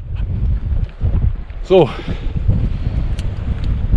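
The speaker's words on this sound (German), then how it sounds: "Wir haben gerade -3 Grad und es ist extrem windig." Strong, cold wind gusts through a snowstorm at minus three degrees, a steady low rumble and buffeting of the microphone running the whole time beneath a voice.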